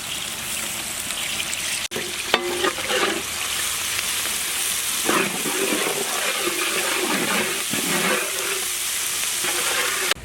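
Onions and curry leaves frying in oil for a village-style fish curry, a steady loud sizzle with stirring scrapes and a couple of sharp pops, no talk.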